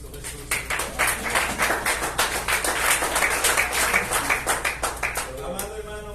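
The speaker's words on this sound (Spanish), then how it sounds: "den un fuerte aplauso a Cristo Jesús" A church congregation claps in rhythm, a steady run of sharp claps carrying across the room for several seconds, with voices speaking over and around it.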